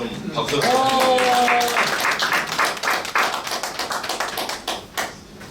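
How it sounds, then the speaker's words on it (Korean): Audience at a press conference in Seoul opposing the WEA Seoul assembly, giving a short burst of clapping under a brief held musical or vocal tone, then thinning into scattered individual claps. "김호욱 교수님 나오시면 좀 박수"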